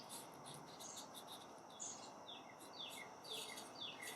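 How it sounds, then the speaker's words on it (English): Faint high chirps from birds outdoors, scattered through a steady hiss of background noise with a soft, low rumble underneath. "If you hear the birds in the background, it's because I'm recording outdoors."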